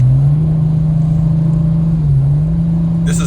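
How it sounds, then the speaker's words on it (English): A 2024 BMW M4 accelerates with its exhaust valves closed, a loud, steady, droning engine tone held close up for a few seconds, dipping slightly then rising again, with no talking. "I just hit my M1 button to turn the exhaust off, and now you can hear it's not too loud."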